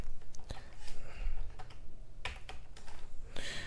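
Typing on a computer keyboard while entering text into a PowerPoint slide, a quick run of close, sharp key clicks over a low background hum, with no talking.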